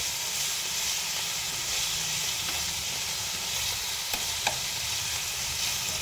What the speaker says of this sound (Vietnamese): Khi xào thịt mình sẽ xào với lửa lớn nhé các bạn.